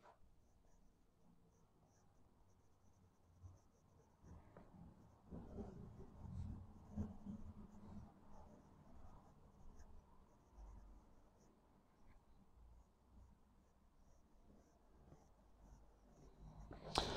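A PENBBS 471 eyedropper fountain pen with a medium nib in Niangao finish scratches softly across paper in close, continuous strokes with faint intermittent scraping and no voices.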